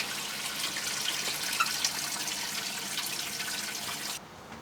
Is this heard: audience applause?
no